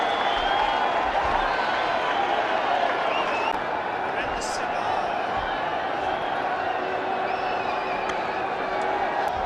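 A packed cricket stadium crowd roars and cheers after a ball bounces once over the rope for a boundary during a 2002 one-day international in Rajkot, a dense, steady wall of distant noise under commentary.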